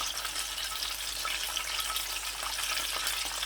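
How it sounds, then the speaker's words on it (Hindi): Crispy chicken leg pieces fry in oil over lowered heat, a steady, dense sizzle with fine crackling that holds evenly and close throughout, with no voices. "मैं आंच जो है वो थोड़ी हल्की कर दूंगा, ताकि लेग पीसेस जो हैं थोड़ी देर ज़्यादा हम पका सकें"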